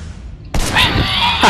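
Gunfire in the video game Sleeping Dogs: after a quiet, low hum, a sudden loud burst erupts and stays dense and harsh to the end, with a final sharp crack.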